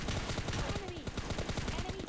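Rapid gunfire in the mobile game PUBG Mobile Lite, a dense burst of loud shots rattling continuously for about two seconds with a voice faintly underneath.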